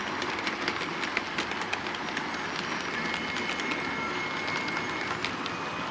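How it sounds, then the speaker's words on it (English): Model trains roll past on a 1990s–2000s era layout in a train room, a steady rumbling clatter with fine rhythmic clicks of wheels on track, continuous and fairly close, with no talking. "We'll just let the trains go past"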